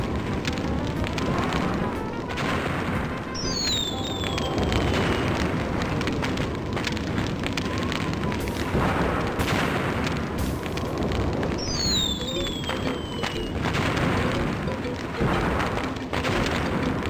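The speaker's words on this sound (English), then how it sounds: "What a great pyrotechnics show!" Pyrotechnic explosions and fire roar in the video game Normality, a dense continuous crackling rumble with a couple of rising whistling streaks, while a voice talks over it.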